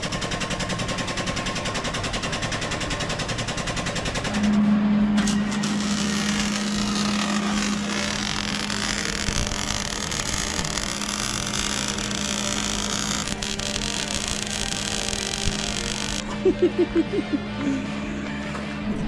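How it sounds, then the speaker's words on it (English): A tube bender bends steel tubing for a rock slider on a Suzuki Samurai off-road build, giving a steady motor hum with mechanical rattle and a few sharp clicks near the end. "Jake's got the bender going off"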